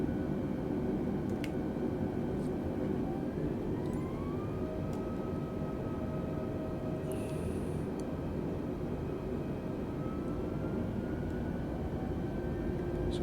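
Airplane engine drone during a climb in the flight game Microsoft Flight Simulator, a steady, continuous loud hum with faint tonal shifts and a few soft clicks, no talking.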